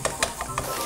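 Vegetables stir-fried in a heavy wok over a strong flame: a quiet sizzle broken by four quick, rhythmic scraping tosses of the pan, with no talking.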